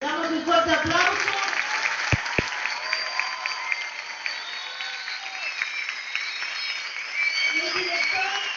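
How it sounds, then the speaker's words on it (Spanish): Audience applause at a school presentation event in Chapadmalal, a sustained wash of clapping from a crowd filling the room, steady and fairly loud with a few sharper claps standing out. "Damos un fuerte aplauso."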